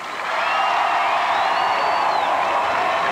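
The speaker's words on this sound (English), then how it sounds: "Let's give them another cheer." A crowd gives a sustained cheer for a sports team and its players at a civic presentation, a loud, steady wash of voices and applause with whistles, unbroken for three seconds.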